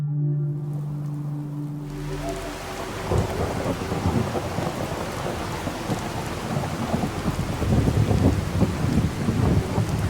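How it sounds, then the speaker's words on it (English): Heavy thunderstorm ambience from a Fallout 4 weather mod: steady loud rain and low rolling thunder rumble swelling in after a brief quieter opening, continuous and close throughout with no talking. "it's almost as if you stepped out of your house right now and it was storming"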